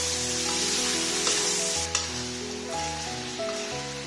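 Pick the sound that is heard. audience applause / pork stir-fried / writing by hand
pork stir-fried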